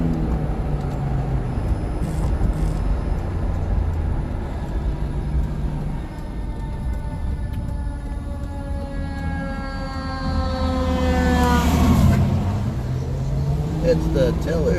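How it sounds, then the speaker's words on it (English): A fire department tiller truck drives along, its engine a steady loud rumble with a siren-like tone rising and sweeping near the end, while radio chatter and voices talk over it. "It's the tiller truck."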